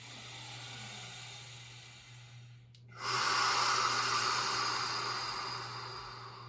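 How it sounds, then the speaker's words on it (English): Slow, deep yoga breaths during a mountain yin yoga class: a long soft exhale, a short pause, then a fuller inhale, close and airy against a low steady hum, with no talking. "as we breathe in, right, we breathe out, right? Feel that expansion of the breath."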